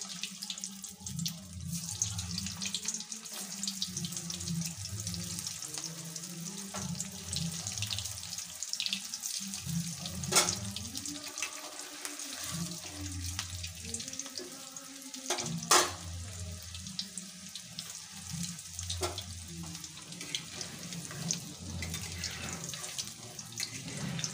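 Mixed pakoras frying one by one in hot oil in a kadai, giving a steady dense sizzle with bubbling and occasional sharp pops, close and continuous throughout with no talk.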